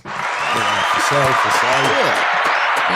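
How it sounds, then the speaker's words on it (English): Steady applause from a crowd fills the whole clip, with a voice talking loudly over it. "they get clap. Yeah, you hear the crowd?"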